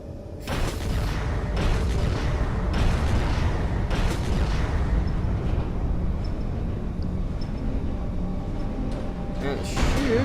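A defence satellite's weapons cycle through repeated firing in Space Engineers, heavy booming and mechanical thumps rolling continuously under a speaking voice for the whole stretch.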